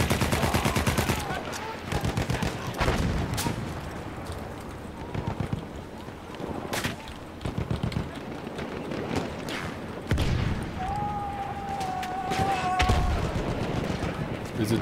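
Battlefield 1 multiplayer gunfire: repeated rapid shots and bursts crackling throughout, some near and loud, others distant, with a player talking at times over the battle.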